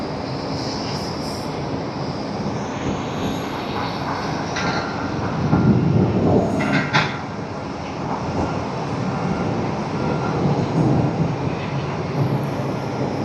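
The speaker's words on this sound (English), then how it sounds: "One of those heavy departures right now." A broad, steady jet roar from a Delta Boeing 767 heavy on departure at Tokyo Haneda Airport. It swells louder for a moment midway and stays heard from a distance.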